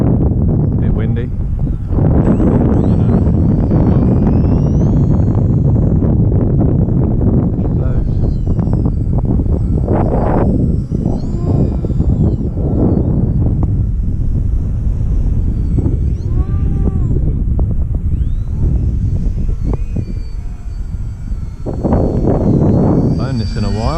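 Steady wind buffets the microphone with low rumbling gusts while people talk over it throughout, outdoors while flying a 4-cell RC 3D plane.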